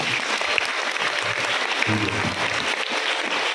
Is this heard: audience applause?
yes